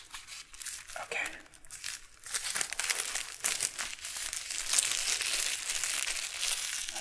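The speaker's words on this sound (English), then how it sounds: "Let's get rid of the plastic." Plastic wrap crackles and tears as it comes off a CD of David Lang's "writing on water", with close, steady crinkling and ripping bursts that carry on throughout under a soft spoken voice.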